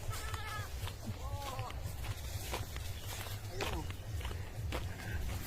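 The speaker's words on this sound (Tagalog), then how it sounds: "Ayun, kambing." A goat bleats several times in a rural yard where other goats are tied up, short wavering calls at moderate distance over steady background noise, with footsteps and people talking.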